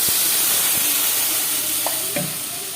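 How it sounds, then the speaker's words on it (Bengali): Water poured into a hot pan of fish curry sets off a loud, steady sizzle and hiss up close, with a few faint clinks mixed in. "এবারে আমি এর মধ্যে পরিমাণ মতো জল দিয়ে দিই।"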